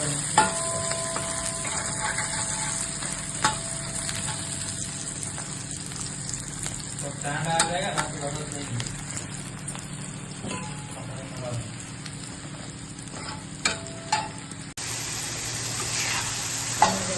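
Sliced onions sizzle steadily in hot oil in a pan and are stirred until reddish, a continuous frying hiss with occasional scrapes and clinks, under intermittent talk.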